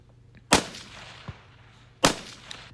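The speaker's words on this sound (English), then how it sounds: "I just transitioned to the next target, which was 550 yards, and started shooting at that" Two sharp rifle shots, about a second and a half apart, crack at a 550-yard target during a shooting match, each with a short echoing tail and a faint distant thump between them.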